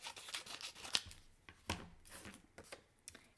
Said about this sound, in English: So I'm just going to trim this up